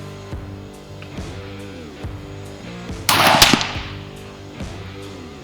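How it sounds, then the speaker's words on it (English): A single loud, sharp gunshot from a Henry Single Shot .350 Legend rifle rings out partway through, close and sudden, between quieter stretches of background noise. "I wanna shoot a group here, and hopefully if I can make a good shot here, this thing might end up being a really accurate little rifle."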